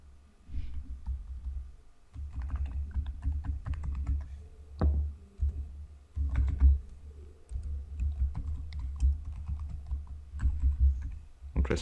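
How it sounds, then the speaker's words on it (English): Keys clatter in quick, uneven bursts as a command is typed on a computer keyboard, close and fairly loud, with brief pauses between clusters of strokes and no voices. "type this command"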